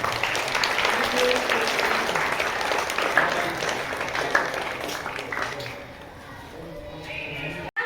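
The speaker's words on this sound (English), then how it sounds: "A huge round of applause." Students and staff at a school investiture ceremony clap for the newly named girls' sports captain, a dense sustained round of applause from a large crowd that thins out toward the end, with an announcer's voice heard faintly alongside.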